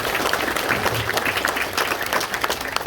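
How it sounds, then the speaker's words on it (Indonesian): A congregation applauds at an outdoor-style Christmas ecumenical church service of the Moni people in Nabire, Papua, with dense, sustained clapping from many hands throughout. "Tepuk tangan untuk Allah"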